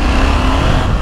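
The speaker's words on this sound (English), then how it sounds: "It's quite a nice noise as well for a parallel twin." A KTM 890 Adventure parallel-twin motorcycle engine rumbles steadily at close range, a continuous low, even drone with no talking.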